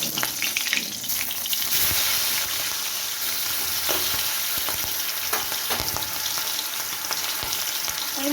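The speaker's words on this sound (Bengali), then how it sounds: "মাছগুলোকে একটুখানি কড়া করে ভেজে নিচ্ছি" Pieces of fish, washed and rubbed with salt and turmeric, frying hard in hot oil in a kadai, a dense steady sizzle with crackling spits and occasional stirring clinks, close and loud throughout with no talk.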